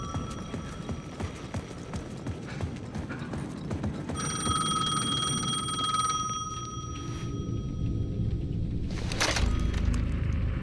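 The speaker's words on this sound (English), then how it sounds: "The payphone at the edge of the plaza was ringing again." A payphone rings in the video game Alan Wake 2, with a steady electronic bell tone repeating over a dense, busy background of rhythmic ambient game sound.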